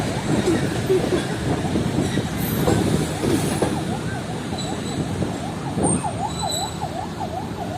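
The Sir Syed Express passenger train rumbles steadily nearby, with a wavering siren-like horn tone rising and falling repeatedly over the noise in the second half.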